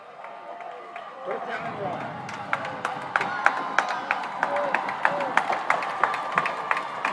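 Home crowd at a Saints Friday night high school football game rumbling on 4th and 1, a swelling roar with scattered claps and stomps, moderately distant, under a play-by-play commentator's voice.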